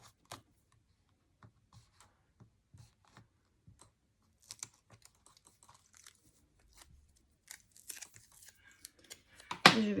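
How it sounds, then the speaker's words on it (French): Strips of double-sided adhesive tape are handled and applied to a small keepsake box, giving faint scattered clicks and light taps, then a louder crinkling tear at the end. "je vais simplement mettre une bande de ruban adhésif double face en haut et puis une en bas"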